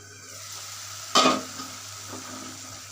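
Ginger and garlic paste sautéing in a pan: a low steady sizzle with one sharp burst of stirring and hissing midway, then a fainter scrape.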